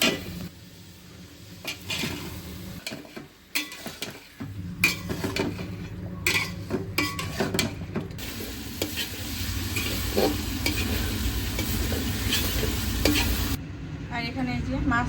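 Vegetable stems being stir-fried in cooked-down spice masala: steady close sizzling with frequent scraping and clanking strokes of a spatula against the pan, the frying growing fuller and more continuous as it goes on, no talking.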